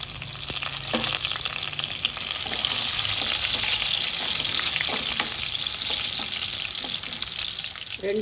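Garlic and curry leaves frying in hot oil in a pan, giving a loud, dense, continuous sizzle with occasional stirring scrapes, heard close and with no talk.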